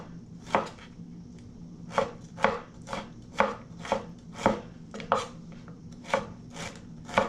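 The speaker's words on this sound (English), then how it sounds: "So we'll just take a floret, and also we'll just give a thin slice to it." A knife slices cauliflower florets on a cutting board for Kolkata-style vegetable chops, about a dozen crisp chops in a quick, regular rhythm. Each one is close and distinct, with no voices.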